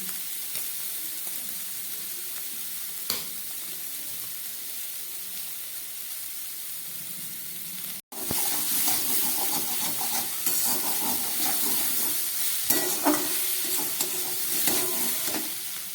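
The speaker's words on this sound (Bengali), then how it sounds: "নুন হলুদ দিয়ে আমি মোচাটা কষিয়ে নিচ্ছি" Banana flower frying in a pan with turmeric, cumin, ginger paste and salt, stirred: a continuous close sizzle with a brief pause midway, then louder scraping and stirring over sharper frying hiss.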